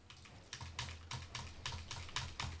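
Keystrokes on a computer keyboard come in short bursts as fingers warm up for a keyboard-and-mouse training routine, a clacking patter repeating about every half second, close and clear with no talking.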